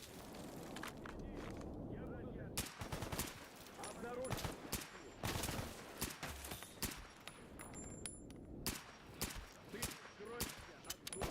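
Gunfire from a 10-round gun in a first-person survival video game: repeated sharp, close shots in irregular bursts with shuffling footsteps between them, loud cracks over a busy background, with someone talking intermittently.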